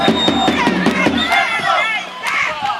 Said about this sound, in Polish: Wielkie brawa dla tego zawodnika.